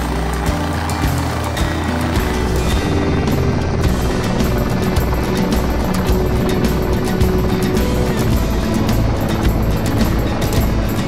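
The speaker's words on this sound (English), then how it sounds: "landing a helicopter on the snow, kicks up all this white snow" A helicopter's loud, steady rotor and engine roar fills the whole clip as it lands on snow, constant and close, with no voices.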